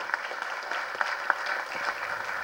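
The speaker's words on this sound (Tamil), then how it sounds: "இந்த நேரத்தில் கருணா சாருக்கு நல்ல மிகப்பெரிய கரகோஷம் கொடுங்க, இந்த அரங்கமே அதிர மாதிரி கொடுங்க" Audience clapping at a Tamil film audio launch event, a steady moderately distant applause with sharp individual claps standing out, continuing throughout.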